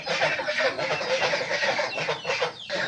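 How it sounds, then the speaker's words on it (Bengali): Native chickens feeding under a malta tree, clucking continuously in quick overlapping calls from several birds nearby, moderately loud with no break. "মালটা গাছের নিচে মূলত মুরগিরা খাচ্ছে"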